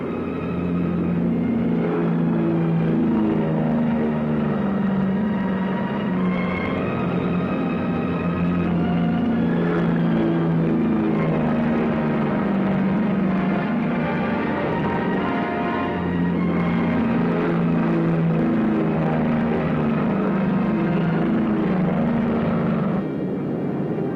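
Military airplanes taking off at full throttle in a wartime combat setting, a loud continuous roaring engine drone with shifting tonal whine that holds steady throughout, close and dominant with no talking.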